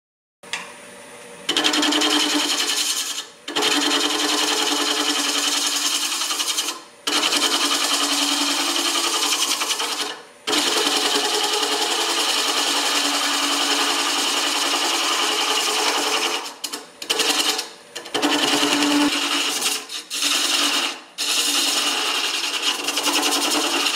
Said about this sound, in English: now I'm going to find a hollowing tool and get to the inside of this